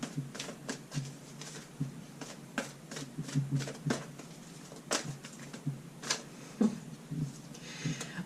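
A deck of angel answer oracle cards being shuffled by hand, with repeated soft riffling and slapping bursts in an irregular rhythm, close and fairly quiet, with no talking.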